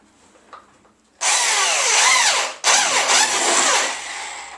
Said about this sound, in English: just drill big holes in with a big drill